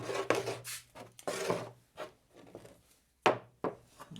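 Milk paint being stirred by hand: irregular woody scraping and rubbing strokes, close and fairly quiet, in short bursts separated by pauses, with one sharper knock near the end.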